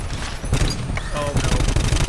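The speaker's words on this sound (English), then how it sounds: "Lots of recoil on this gun." Gunfire with heavy recoil in the GTFO video game, a dense run of loud, rapid shots that keeps going through the whole stretch, with a voice underneath.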